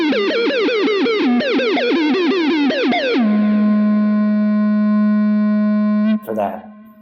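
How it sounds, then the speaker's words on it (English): A guitar through a Quad Cortex filter effect with resonance cranked, pulsing sweeps for about three seconds, then settling into a steady self-oscillating drone that sustains on its own before cutting off with a brief noisy burst. "it's just going to stay on because it's feeding back into itself even when you're not playing."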